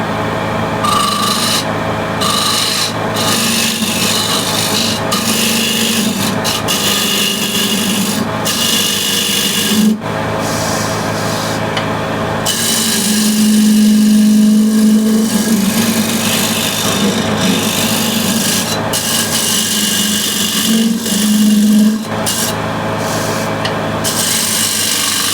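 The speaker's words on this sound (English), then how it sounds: "So now I'll use a scraper just to refine this. I think the square end scraper should be okay for this." A square end scraper refines a wooden bowl on a lathe, a loud continuous rasping scrape with a steady humming drone, pulsing in short strokes and a longer sustained cut, with no talk.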